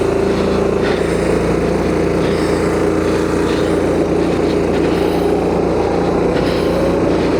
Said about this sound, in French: Ah, c'est la tondeuse.